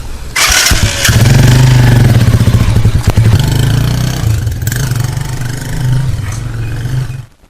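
A motorcycle ridden by a farmer in Loum, Cameroon, starts up and revs hard, a loud, close, steady roaring engine that holds for several seconds with throttle surges before cutting off abruptly.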